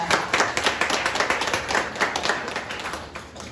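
Dense, steady clapping from a seated audience fills the room at a community urban development briefing, sustained throughout without any speech.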